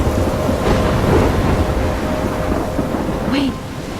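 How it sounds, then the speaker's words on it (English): A thunderstorm with heavy rain and a low, sustained rumble of thunder from the video game Life is Strange, loud and dense throughout, with a brief faint vocal sound near the end. "I'm trapped in a storm?"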